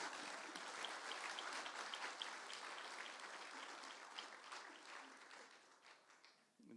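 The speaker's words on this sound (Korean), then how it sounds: "박수 한번 칩시다." Audience applause at an honorary doctorate ceremony, a dense sustained clapping from a large crowd that holds steady for several seconds before gradually thinning and fading.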